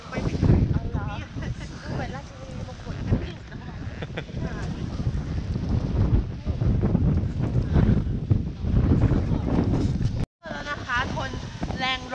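Strong wind buffets the microphone on a rocky Taiwan coast, roaring loud and steady throughout with gusty surges and a brief dropout near the end, while people talk under it.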